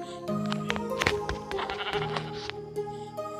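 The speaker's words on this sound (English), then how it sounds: "there's a sheep" Sheep in Minecraft bleat several times in quick succession, loud and close, with bright wavering cries layered over one another and no talk.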